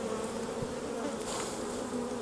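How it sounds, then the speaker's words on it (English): Dense, steady buzzing of many honey bees being shaken into a hive during a colony split, a continuous close swarm hum with no voices. "I'm going to shake more bees in than you think is a good idea."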